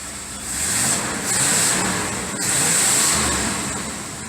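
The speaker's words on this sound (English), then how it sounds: "she fired right up, so that's good. And she's still running" An engine fitted with a freshly rebuilt Edelbrock carburetor runs close by, a steady idle that swells gently a few times, with a high whine riding on top.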